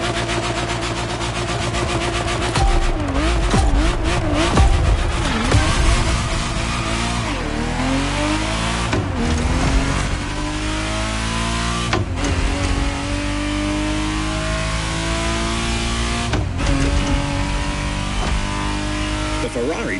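Ferrari Testarossa engine in a video game, revving through rising and falling pitch sweeps with shifts and sharp transients, loud and continuous, with a voice talking over much of it.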